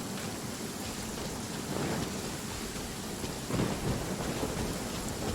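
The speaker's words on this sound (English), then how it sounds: "It's also raining now? All of a sudden it's raining?" Heavy rain pours in the game Genshin Impact, a dense, constant wash of water with deep thunder rumbling up around the middle and again near the end, loud and close, with no talk.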